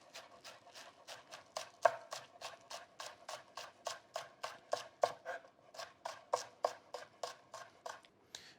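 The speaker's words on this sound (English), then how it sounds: "And we're gonna break down the green onion," Green onions, white and green parts, chopped with a knife on a cutting board in a steady run of crisp, evenly spaced chops, close and alone with no talk.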